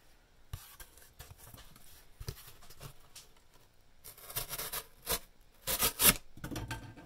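An Emerson Mini A100 knife with a V-grind chisel edge cuts through cardboard, giving close, dry rasping scrapes that build into louder bursts toward the end, with no talking.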